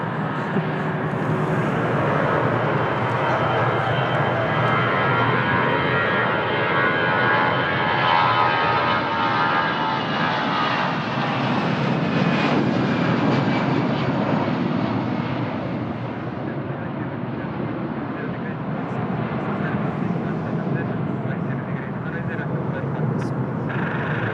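An Aerowings airplane at Lisbon Airport gives off a loud, continuous engine roar close by, with faint whining tones drifting through and possible voices underneath.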